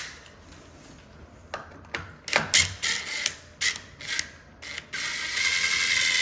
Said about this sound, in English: you can unscrew these wall anchors just a little bit, like a half a turn